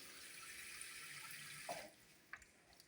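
Water runs steadily from a classic tap into a strong, high-density sink in a cafeteria service area, a continuous splashing hiss that stops partway through, followed by a few faint drips and clinks.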